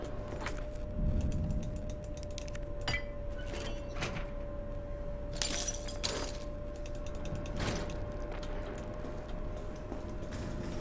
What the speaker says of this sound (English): we use the bolt cutters to get into this shop